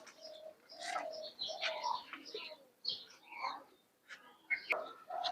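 Pigeons kept in a home loft during hot weather coo repeatedly in soft, low, rolling phrases, with a few brighter chirps mixed in, close by and continuing throughout with no one talking.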